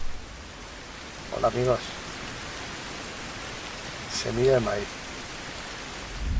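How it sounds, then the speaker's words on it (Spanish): Rain in the video game Fountain of Youth, a steady soft patter and hiss running continuously, with a voice speaking briefly twice over it. "Podría dejar de llover, perdón."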